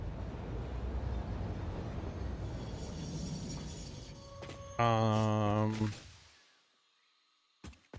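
A train in the factory-building video game Satisfactory rumbles along with a steady mechanical roar, then a loud horn-like tone sounds for about a second before the noise fades away, followed by a couple of brief clicks.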